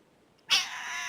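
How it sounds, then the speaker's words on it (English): A pet cat lets out a single sharp meow at close range that trails into a sustained cry, with quiet room tone before it and no talking. "Tell everybody bye, kitty."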